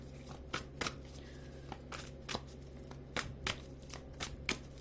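A deck of tarot cards is shuffled by hand in a quiet room, a series of soft riffling bursts and flicks repeating irregularly, close and fairly faint.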